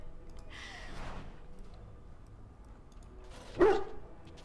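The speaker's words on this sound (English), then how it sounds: "He bounces around you, barking excitedly." A dog in the Dragon Age: Origins role-playing video game barks excitedly, giving a short yelp near the start and a louder, sharper bark a few seconds later over a quiet game ambience.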